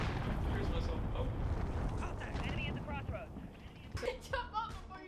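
A deep rumbling blast from a cruise missile explosion in a naval video game rolls on with wind-like roar and fades, while players talk over it.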